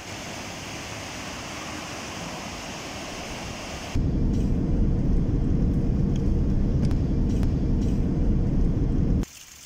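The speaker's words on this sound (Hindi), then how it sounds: "दरियाए कुनार का ये दिलकश मंज़र और बहते पानी की ये मधुर आवाज़ इंसान को ज़हनी सुकून फराहम करती है" Flowing water of the Kunar river beside a mountain road, a steady broadband rush that turns suddenly louder and closer midway, then drops back near the end.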